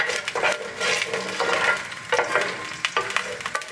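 Dried red chillies tempering in hot oil for sambar dal, a steady crackling sizzle with sharp pops and stirring scrapes, close and fairly loud, no talk.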